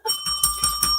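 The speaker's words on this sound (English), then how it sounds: "I had to get my bell out for that one." A handheld bell rings out in a few bright repeated strikes, close and clear, its sustained metallic tones overlapping with no talking.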